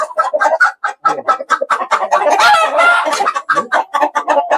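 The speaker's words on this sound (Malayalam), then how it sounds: "ഇത് നാടൻ കോഴി അല്ലേ" Several native country chickens cluck loudly and close, in quick overlapping bursts, with one longer, strained call rising partway through.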